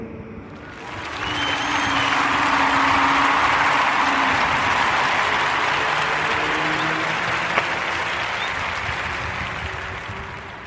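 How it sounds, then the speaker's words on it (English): A warm round of applause for Bridget Todd rises within a second into a broad, sustained clapping wash, holding steady for several seconds with a low hum underneath before gently tapering off. "join me into giving Miss Bridget Todd a warm narrative podcast round of applause"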